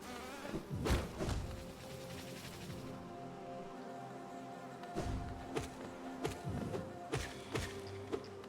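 A video game enemy vomits out tiny bees, giving a faint, continuous insect buzz mixed with scattered thuds and hits from combat.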